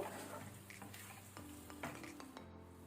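Creamy sweet corn masala stirred slowly in a pan over a low-to-medium gas flame: a soft, continuous sizzle with faint scraping strokes, close but quiet, with no speech.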